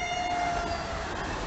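A Pendolino train passes through Krompachy railway station, a loud sustained roar of rolling wheels with a steady tonal horn-like note running through the first half, close by and with no voices.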